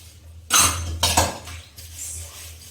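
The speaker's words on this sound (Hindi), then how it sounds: "अच्छे से वॉश कर लेते हैं, मिलते हैं सारे बर्तन धोने के बाद" Brass pots and metal utensils are washed, giving two loud clattering bursts of metal scraping and knocking, then a softer stretch of rinsing and handling.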